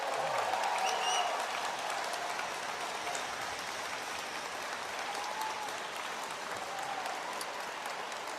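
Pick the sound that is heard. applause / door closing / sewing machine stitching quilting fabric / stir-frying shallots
applause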